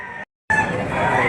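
Chickens at the Padre Garcia, Batangas livestock auction crow and cluck up close, a short call, a brief gap, then a longer sustained crowing stretch, with faint voices in the background.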